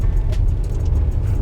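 A Bentley Continental GT Speed, front-wheel drive engaged, powers along a soaking wet track, its deep engine rumble loud and steady, with a wash of spray hiss above.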